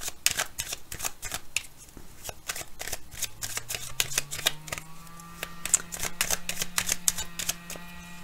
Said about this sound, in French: Alors, on va retourner des cartes sur cette part d'ombre ici.